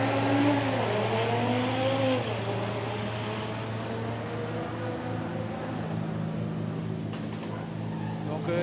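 Diesel TDI cars, among them a Seat Cupra and a Peugeot 206 TDI, rev and drive past at a late-afternoon car run on Réunion, their engine notes rising and falling at mid distance.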